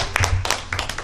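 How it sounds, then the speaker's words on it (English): Scattered applause rises from the audience at a Nigerian entrepreneurs and professionals round table, a brief burst of several loud, close hand claps over a low background rumble. "Can we give you a round of applause?"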